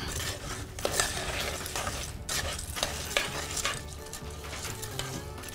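Chicken stock being stirred into a salmon cake mixture on a Blackstone griddle, a soft steady wet scraping and shuffling with faint sizzle underneath, close and fairly quiet with no talking.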